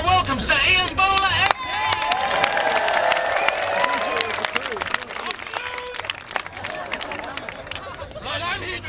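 A live crowd at a UK Uncut Block the Bridge protest comedy set breaks into sustained applause and cheering, loud and steady throughout with a general hubbub of voices mixed in.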